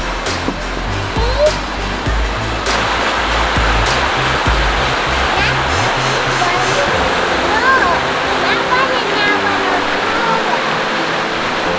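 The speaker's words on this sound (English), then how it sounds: "Another waterfall." At Blackwater Falls State Park in West Virginia, a waterfall gives a constant, broad rushing roar nearby, with a few thumps early on and voices faintly mixed in.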